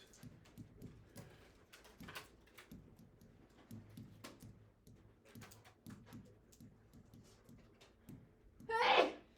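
A single loud sneeze bursts out at the end of a quiet stretch in a classroom trigonometry lesson, after soft tapping and room noise.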